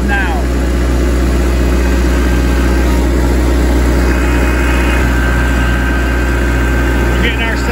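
A Kubota B3300 tractor engine runs steadily with a loud, constant low drone and vibration heard from the operator's seat. Someone talks over it.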